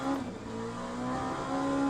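LMP prototype race car engine in the Le Mans Ultimate sim racing game, a steady buzzing drone with a rising pitch under acceleration, heard alone at moderate volume.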